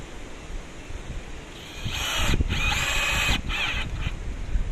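A power drill driving screws into timber for a garden bed, a whirring burst of a couple of seconds with short stops, over steady outdoor background noise.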